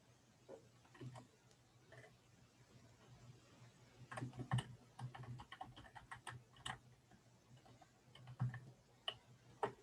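Keyboard typing in a quiet room, a patter of quick soft keystrokes that comes in uneven bursts, sparse at first and then denser toward the middle and end, with a low steady hum underneath.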